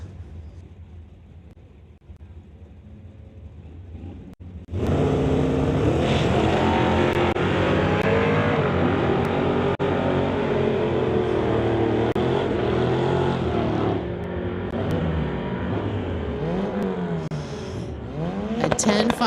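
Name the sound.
drag racing cars launching down the strip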